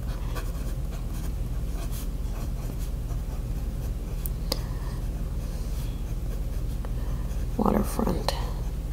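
A Platinum Plaisir fountain pen with a fine nib scratches softly across paper in a continuous, quiet writing sound, with a brief murmur of a voice near the end.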